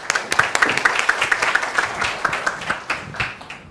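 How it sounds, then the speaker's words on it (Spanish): Audience clapping welcomes a speaker to a talk on the digital consumer. The claps are close, fairly regular and brisk, and last a few seconds. "les pido que lo recibamos con un fuerte aplauso por estar con nosotros hoy día"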